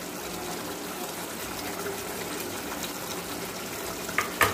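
Water poured into palak chicken in a pan, a continuous gushing, hissing wash of liquid with a couple of clinks near the end.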